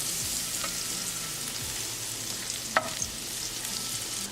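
Garlic sizzles in butter and olive oil over medium heat, a soft steady frying hiss with an occasional light clink as it gets mixed, quiet and close without any talking.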